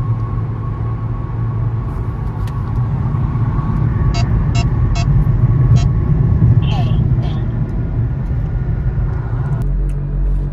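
A Dodge Hellcat Redeye being driven, its engine a loud, steady low rumble that fills the whole stretch, with a few brief higher chirps partway through.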